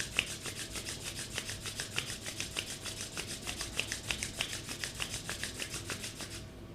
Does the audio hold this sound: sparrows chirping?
no